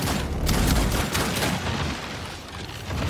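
Gunshots in the alien open-world game Outcast: A New Beginning, a rapid fusillade of loud, close shots and booms, densest early and easing off before picking up again, with no voices.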